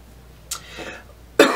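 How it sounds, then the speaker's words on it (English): A person recovering from bronchitis coughs in a short fit: one sharp cough, a rougher follow-up, then a loud, harsh cough at the end, close to the microphone. "Oh my gosh, cough attack."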